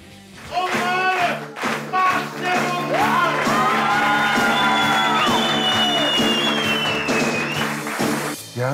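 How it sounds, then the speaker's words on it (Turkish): Studio audience clapping and cheering for a performer named Yağmur, loud whoops and shouts over applause, with sustained vocal cries rising above the crowd noise throughout. "Tüm alkışlar Yağmur için."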